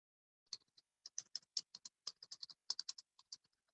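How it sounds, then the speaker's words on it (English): Rapid, uneven keystrokes on a computer keyboard, close and clear, with short bursts of clicking and brief pauses, nobody talking over them. "Thank you for typing, Amy."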